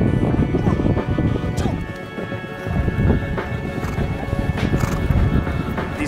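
Hooves clopping rapidly as half-wild Mongolian horses run, rhythmic and close, with wind and brief voices mixed in.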